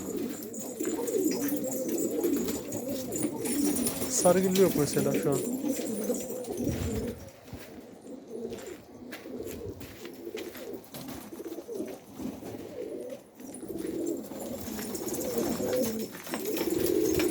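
Pigeons coo steadily in a dense, low burbling chorus close by, rising and dipping in loudness, while someone talks briefly over them.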